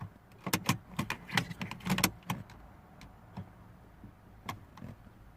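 Attempted start of a Mini Cooper D (R56) with a no-crank, no-start fault: a run of sharp clicks, rattles and clunks, fairly close and moderately loud, bunched in the first two seconds and then sparser, with no engine turning over.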